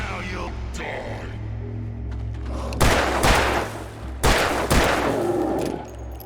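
Gunshots ring out in the video game Alan Wake Remastered. Loud, booming reports come in two clusters of closely spaced shots over a low rumbling background.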